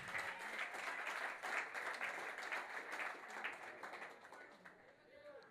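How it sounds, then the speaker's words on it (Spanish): Steady applause from a church congregation fills the space, dense clapping holding for several seconds before thinning out near the end. "desen un aplauso a ustedes mismos."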